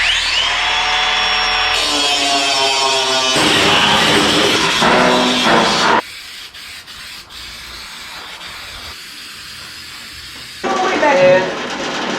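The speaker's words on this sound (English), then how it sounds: "Come back and dress up these welds just a touch" A power tool grinds and dresses fresh welds on new floor pans of a VW Baja Bug, steady abrasive whirring in bursts that stop and restart, with someone talking over parts of it.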